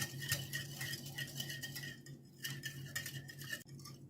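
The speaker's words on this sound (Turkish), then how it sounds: "Hemen şöyle şekerimle mayanın erimesi için kabaca bir karıştırıyorum" A spoon roughly stirring sugar and yeast in a bowl to dissolve them, quick close scraping and light clinking strokes in a soft steady rhythm, no voices.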